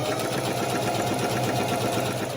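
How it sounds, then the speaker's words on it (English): A sewing machine stitches steadily through tulle for a tutu, set to a medium stitch width and length with the needle centred, giving a close, continuous whirring hum with no pauses. "I'm gonna sew along here"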